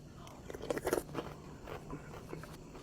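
Close-up eating of sardines with crispy fried shallots, soft crunching bites and chewing in a quick cluster that then taper into quieter, scattered munching, with faint background noise.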